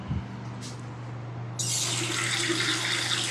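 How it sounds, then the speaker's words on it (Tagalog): Water gushing strongly from a bathroom faucet in a beach resort room, a faint hum at first, then a loud steady rush that starts abruptly and continues to the end. "Malakas yung tubig."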